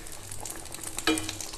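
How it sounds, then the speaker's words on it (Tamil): A veg burger patty fries in oil over a medium flame, giving a steady, close sizzle with light crackling pops and one sharper spatter partway through. "இது வந்து ஒரு மீடியம் ஃப்ளேமில் வச்சு பொரிச்சு எடுக்கணும்"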